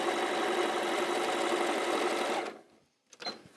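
A sewing machine stitches a quarter-inch seam on a quilt block, a loud, close, steady mechanical whir that stops abruptly near the end, followed by a few soft handling clicks.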